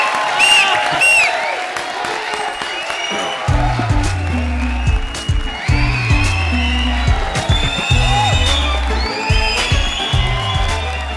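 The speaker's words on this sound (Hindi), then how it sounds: "ऊपर भी इकट्ठे जा रहे, जोरदार तालियां हो जाए।" Studio audience at a live comedy show featuring Krushna Abhishek and Sudesh Lehri bursts into loud, sustained applause with cheering and whoops, while music plays underneath.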